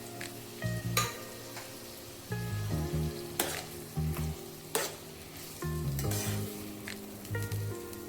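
Capsicum and tomatoes stirred and fried in a pan for paneer cheese ghotala: repeated bursts of scraping and sizzling as the spoon turns the mix, with sharp clacks against the pan and quieter pauses between.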